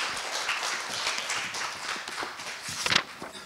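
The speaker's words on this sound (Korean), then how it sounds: "따뜻한 박수 부탁드립니다." Warm applause from an audience at an academic conference on East Asian history, a steady wash of clapping at moderate level that swells briefly near the end.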